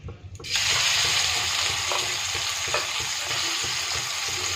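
Small prawns hit hot oil in a pan and burst into a loud, steady sizzle that holds evenly, with faint clinks of utensils underneath.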